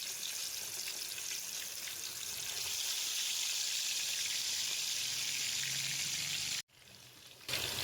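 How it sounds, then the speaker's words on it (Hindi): Chicken pieces frying in hot oil over high flame, a dense, steady sizzling hiss that swells slightly, cuts out briefly, then resumes. "चिकन को हम फ्राई कर लेते हैं।"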